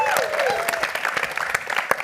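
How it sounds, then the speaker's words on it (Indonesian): A studio audience claps for an Islamic preacher on a regional TV quiz show, brisk applause with sharp individual claps and a brief tonal sweep near the start, running under the scene for a couple of seconds. "Oke, tepuk tangan buat Ustaz."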